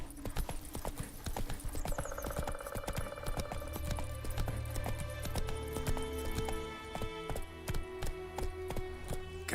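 Hooves of Roach, a horse in The Witcher 3, clip-clop in a brisk steady trot, close and crisp over a low humming game soundscape.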